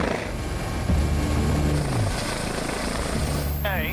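An air ambulance helicopter drones loudly and steadily with its thudding rotor hum, close by, with voices talking over it.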